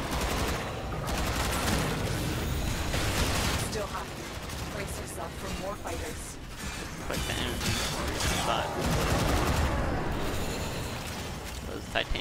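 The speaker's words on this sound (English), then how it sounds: "Machine gun to the face." Rapid machine-gun fire from Titania's ultimate ability in the Warframe video game, a dense continuous rattle of shots with explosive cracks layered through the game mix, while a player talks over it.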